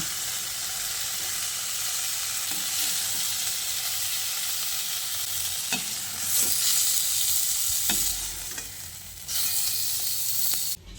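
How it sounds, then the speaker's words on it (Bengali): Fried pointed gourd being stirred and tossed in hot oil in a pan, a continuous close sizzle broken by scraping spatula strokes and brief louder bursts of hissing. "পটলগুলোকে আরও 2-4 বার ভালো করে নেড়ে চেড়ে মিশিয়ে নেব"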